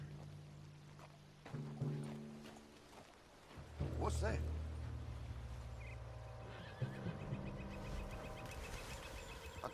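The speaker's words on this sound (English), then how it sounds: "What's wrong with this horse?" A horse whinnies loudly in the Western game Red Dead Redemption 2, with hoof clip-clops and game sounds around it and someone talking.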